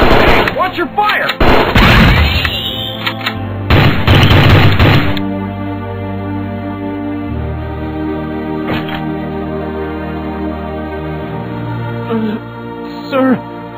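Soldiers' gunfire in the video game Strike Force Heroes: a dense burst of rapid, loud shots layered over busy electronic game music, which carries on alone after the firing stops.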